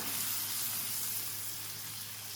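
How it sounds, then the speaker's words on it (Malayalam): Maida flour sautéing in a pan, giving a soft, even sizzle that stays low and steady until a brief knock at the end. "അപ്പോൾ അതിൻ്റെ ആ ഒരു മൈദയുടെ ഒരു പച്ചമണമൊക്കെ മാറുന്ന വരെ കുറച്ച് നേരം ഒന്ന് ഞാനിങ്ങനെ വഴറ്റിയെടുത്തിട്ടുണ്ട്"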